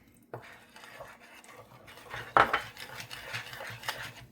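Gluten-free pancake batter with butter being mixed in a bowl, a run of soft clinks and scrapes of a utensil against the dish, one sharper knock midway, close and fairly quiet with no talking.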